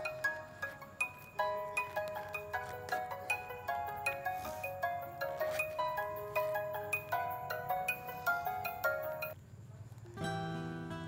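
A phone ringtone plays a repeating chiming melody of bright plucked notes for about nine seconds, then cuts off into a different short tone, clear with no talking over it.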